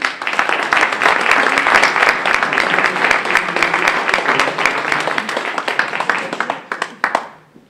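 An audience at a public political meeting in Le Mans breaks into loud, dense applause, many hands clapping close and continuous for several seconds before thinning into a few scattered claps and fading out.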